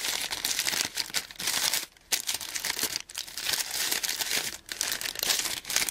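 Wrapping on a gift package crinkles and crackles loudly and close up as it is unwrapped, in a steady stream of rustling with a few short pauses.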